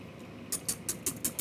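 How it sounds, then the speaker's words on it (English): A whisk scrapes rhythmically in a pot of congee with ginger and grits, about six short, soft, evenly spaced strokes over a quiet background. "I'm going to whisk a little bit more."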